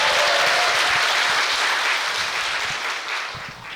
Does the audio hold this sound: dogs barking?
no